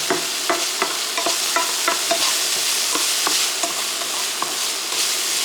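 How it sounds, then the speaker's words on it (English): Green peas and mushrooms stir-frying in a hot pan, a loud steady sizzle with repeated scraping spatula strokes every half second or so, no voices. "I'm going to add in some green peas."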